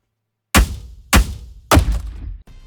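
Firestarter red rocket launcher firing in ULTRAKILL, three heavy, punchy booming shots spaced about half a second apart, each with a short rumbling tail, followed by a fainter fourth hit.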